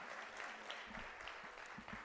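A graduation ceremony crowd at the VMFA claps for the winners, a short, faint burst of scattered applause with a few sharper nearby claps, heard at a distance.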